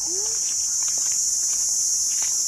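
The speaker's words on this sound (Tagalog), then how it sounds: "kung naririnig mo yung kuliglig" Crickets chirp in a rural garden in Hong Kong, a dense continuous high trill running steadily throughout, with a brief rising tone and faint patter at the start, and no speech.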